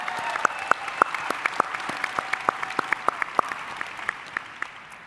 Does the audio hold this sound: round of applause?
yes